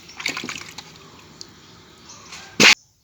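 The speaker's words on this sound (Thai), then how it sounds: "เอามะม่วงออกจากถังมา ก็เอามาล้างน้ำนะครับ ล้างน้ำ" Pickled Thai mangoes taken from a brining tank are rinsed in water, giving soft splashes and trickles through the first second, a quieter wet stretch after, then a brief loud splash of running water near the end.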